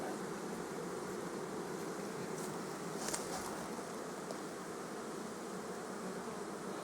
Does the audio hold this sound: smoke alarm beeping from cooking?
no